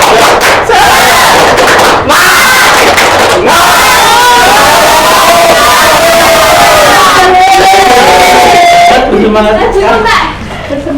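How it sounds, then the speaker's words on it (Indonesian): A primary school class in a microteaching lesson shouts a loud, rhythmic spirit clap chant together, children's voices blending into a dense crowd roar that runs almost continuously before tapering off at the end. "1, 2, 3, tepuk semangat."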